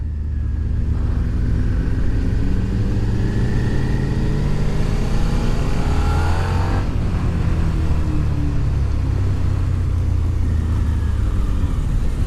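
A Suzuki SV650 motorcycle coasting on a test ride, a continuous engine rumble and road noise that shifts pitch as the revs drop and pick back up, loud and close with no speech.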